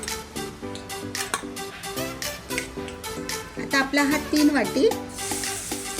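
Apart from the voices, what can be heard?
grated carrot sautéing in a kadhai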